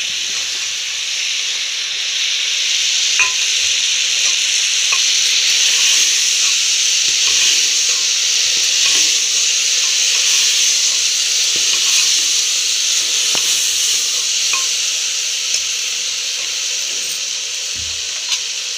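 About 200 grams of potato pieces frying in a pan for Mumbai-style pav bhaji: a loud, steady sizzle and hiss throughout, with occasional small pops and stirring clicks, no talk.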